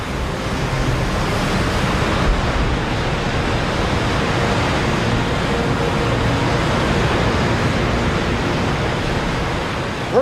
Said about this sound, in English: This ferry with 200 passengers survived hurricane-force winds and 20-foot